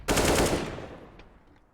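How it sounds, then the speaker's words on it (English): A short burst of automatic gunfire in a Counter-Strike match on the map Nuke, loud and rapid at first, then trailing off into reverberant decay with faint later clicks. "Great headshot from Jackie."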